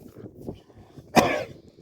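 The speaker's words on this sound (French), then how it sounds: "Ah merde, ça tousse." A single sharp, harsh cough bursts out close by after a stretch of quiet, low background murmur.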